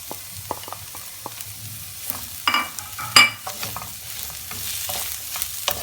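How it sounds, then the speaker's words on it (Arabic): Onions and carrots sauté in a pan, a low steady sizzle broken by scattered scrapes and clinks as a utensil stirs, close and moderately quiet, with no voices. "بعد ما غادي نشحروا البصله غنضيفوا معاها الجزر"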